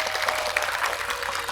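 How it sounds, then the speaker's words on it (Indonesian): Audience applause at a religious talk by Ustadz Kelik GP and Gus Zaman, a steady dense wash of clapping from a crowd, brief and continuous without talk. "Tepuk tangan buat wong dataran."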